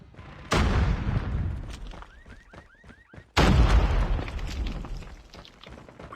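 A grenade blast and gunfire in a multiplayer shooter's ranked Domination match, two heavy booming explosions with a brief rattling burst of rapid shots between them, loud and close.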